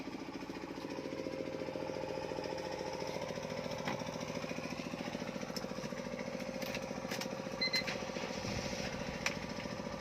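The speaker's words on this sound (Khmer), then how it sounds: "ម៉ាស៊ីននេះស្ងាត់អណាស់ បាទបញ្ឆេះហើយមានលឺសំឡេងសមផងឡាននេះ" A car engine idles steadily with a low, even rumble and faint mechanical ticking, running continuously throughout with no talking.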